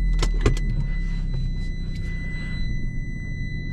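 A Fiat 500 being slowly maneuvered outdoors into the shade of a tree: a steady low engine rumble with a few sharp clicks near the start and faint thin tones running throughout, heard alone without speech.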